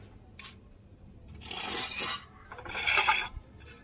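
Dried red chillies being wiped and rubbed by hand, a few bursts of dry rustling and scraping with faint clinks, close and quiet, with pauses between strokes.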